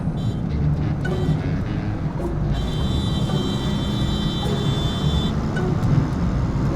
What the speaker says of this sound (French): nous allons rentrer le 3e rapport et accélérer à fond pendant toute la ligne droite